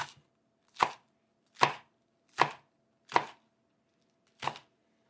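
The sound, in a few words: knife chopping green onions into thin slivers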